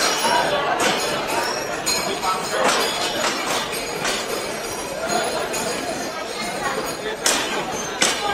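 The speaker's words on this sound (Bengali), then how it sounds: "এই মুহূর্তে সুন্দরবন এক্সপ্রেস ট্রেনটি ছেড়ে যাচ্ছে যশোর" The Sundarban Express pulls out of Jessore railway junction: a steady broadband rumble with scattered metallic clinks and clanks, close and fairly loud, while voices talk throughout.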